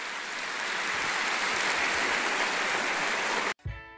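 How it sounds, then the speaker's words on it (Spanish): A church congregation at a Christian service applauds, a dense, sustained wash of clapping that stays loud and even for several seconds before cutting off abruptly. "Dele un aplauso al Señor."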